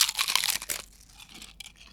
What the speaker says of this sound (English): on 3, we'll all crunch in, so we get a big crunch